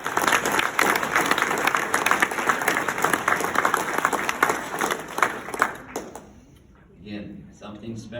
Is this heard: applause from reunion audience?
yes